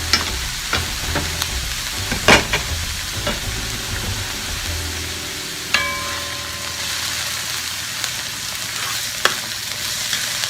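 Onions browning in a pan for tawa chicken, with a steady broadband sizzle throughout and occasional scraping stirs and clinks of a utensil against the metal pan, close and fairly loud, no talking.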